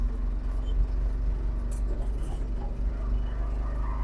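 Steady low engine drone of a Piaggio Ape Xtra auto rickshaw cruising in fourth gear, a constant close hum with road rumble and no speech.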